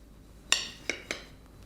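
Cutlery tapping and scraping on a plate while an air-fried egg is cut open, three crisp clinks spaced about half a second apart, close and alone.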